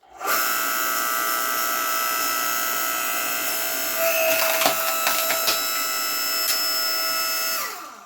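A Harbor Freight electric 5 ton log splitter hums steadily under load while splitting wood, with sharp cracking and splintering snaps from the log midway through.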